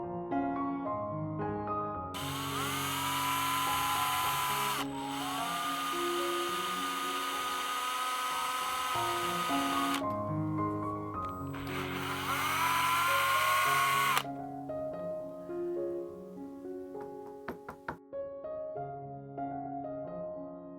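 A power drill bores into a tubular lock in two long high-pitched whining bursts, stopping and restarting, with scraping and small metallic clicks between passes.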